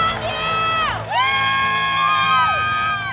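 A crowd cheers loudly for the graduating Terrapin Class of 2023, with high whoops and yells rising and falling over a steady, dense roar for the whole stretch.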